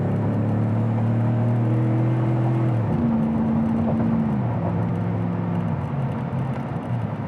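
A lifted Chevrolet Silverado pickup truck with 4-wheel drive cruising down the road: a loud, steady engine drone heard from inside the cab, its pitch stepping down as the transmission shifts, with road rumble underneath.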